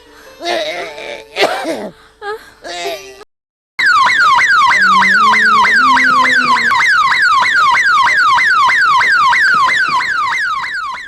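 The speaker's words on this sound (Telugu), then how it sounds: "ఏంద్ర మామ, అంబులెన్స్ ఎందుకు వచ్చింది?" After a few seconds of people talking and a brief silence, a loud wailing ambulance siren starts and cycles rapidly and steadily up and down, close by, with a lower tone stepping underneath it.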